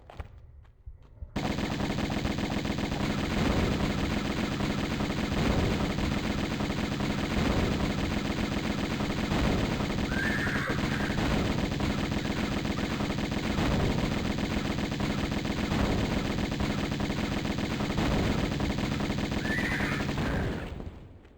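Uzi fire in Tomb Raider Remastered, a sustained, evenly pulsing stream of rapid automatic shots that runs loud and unbroken for about twenty seconds, with no talking.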